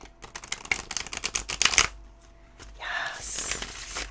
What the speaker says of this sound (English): We're going to do three shuffles and a cut